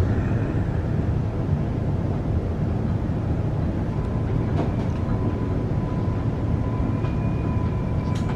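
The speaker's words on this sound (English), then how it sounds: "This train will run express from Bowen Hills to Petrie, stopping only at Eagle Junction and Northgate." A Brisbane suburban train rolls along the rails on an express run near Bowen Hills, giving a loud, continuous rumble with faint squeals and clicks from the track, heard from inside and with no voices.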